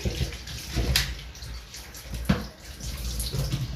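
Tap water runs and splashes while a filled plastic bottle is washed, a continuous rushing flow with uneven surges and a few knocks, close and moderately loud.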